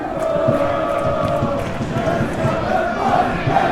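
A raucous home crowd at a lower-league football match roars and chants in a dense, continuous wall of voices, loud and close, with shouts rising out of the din.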